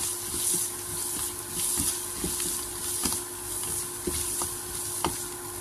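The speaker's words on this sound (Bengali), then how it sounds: "হলুদ দিয়ে নেড়ে চেড়ে দিয়ে দিব মশলা গুঁড়া" Onion, garlic and turmeric frying in a pan while being stirred, with a steady sizzle and a series of sharp spoon scrapes and taps against the pan at irregular intervals, close and alone.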